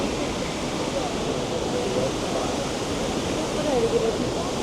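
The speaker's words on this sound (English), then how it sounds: "A waterfall over there." A waterfall inside the Doha airport transit area beside indoor trees produces a steady, soft rush of falling water, continuous and mid-distance, with faint voices briefly audible over it.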